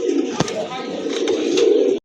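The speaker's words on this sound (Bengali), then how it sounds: "আরেক জোড়া কবুতর রেসার কবুতর, ব্ল্যাক রেসার কবুতর" Pigeons at a pigeon sale, including black racer pigeons, coo loudly and close by in a continuous low warble, with a few sharper clicks and rustles mixed in.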